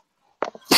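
A single sneeze bursts out close by after near silence, a sharp broadband blast followed by a louder noisy exhale, indoors during a casual morning show.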